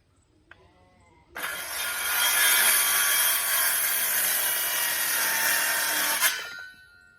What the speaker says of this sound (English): battery-powered circular saw, you ought to get one